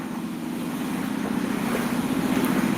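Heavy rain pours down in Kolkata, flooding a nearby pond, as a steady, dense hiss with a low rumbling undertone that holds constant and slightly swells, with no voices.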